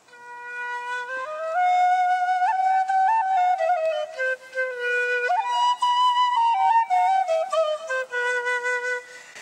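Small bamboo Arabian flute running through a scale, its higher, airy notes rising and falling up close, played solo without voices.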